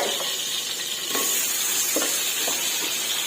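Sweet peppers and onion stir-frying in hot oil in a pan for a pork dish: a steady, close hissing sizzle broken by a few soft scrapes and stirring knocks.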